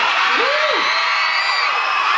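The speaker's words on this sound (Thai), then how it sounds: "เธอกรี๊ดให้เขาหรือกรี๊ดให้ใครเนี่ย" Loud, dense crowd screaming and cheering at a Yamaha Fino scooter campaign launch event with a live cover performance, sustained shrieks and a rising whoop over a continuous roar of fans.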